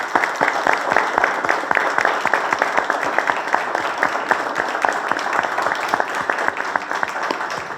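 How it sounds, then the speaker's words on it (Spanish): Applause from an audience at a Book Day event in a cultural centre, a dense, steady clapping that fills the room for several seconds at close range. "Un aplauso."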